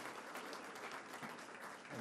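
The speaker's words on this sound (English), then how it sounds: "Another round of applause for Anika there." Steady applause from a large audience, a dense continuous wash of clapping heard from a distance.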